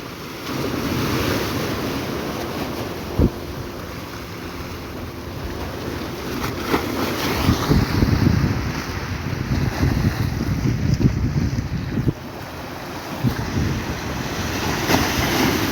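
Strong waves surge and wash continuously, a loud, rushing roar of water with wind buffeting the microphone throughout, no voices.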